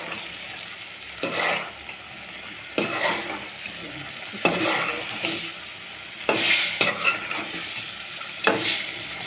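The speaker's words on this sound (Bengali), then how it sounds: "আর আমি ফুলকপি পকাচ্ছি।" Cauliflower cooks in a pan with a soft continuous sizzle, broken every couple of seconds by scraping stir strokes from a spatula or spoon, close and moderately loud.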